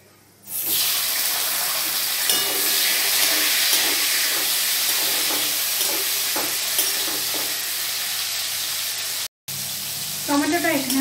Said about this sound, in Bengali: ওই তেলেতেই গোটা জিরে ফোড়ন দেব আর দেব টমেটো কুচি।